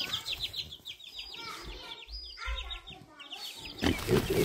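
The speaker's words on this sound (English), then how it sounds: "More baby chicks here." Newly hatched baby chicks peep in quick, high repeated chirps, a steady close chorus with some rustling and a louder burst of activity near the end.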